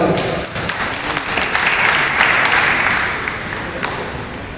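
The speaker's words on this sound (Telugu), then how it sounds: "చప్పట్లతో అభినందిద్దాం." Audience applause at a Telangana local gathering, a dense steady wash of many hands clapping for several seconds, loud and continuous, fading slightly toward the end.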